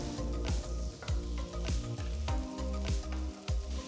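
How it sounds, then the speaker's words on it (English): Onion and capsicum wedges sauté in a hot pan, giving a steady sizzle that sits beneath louder rhythmic background music for the whole stretch. "Saute for a few minutes."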